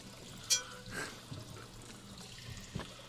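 Water in the Shadowgate video game, faint splashing and trickling with a few sharper drips and sloshes, quiet and close, no talk.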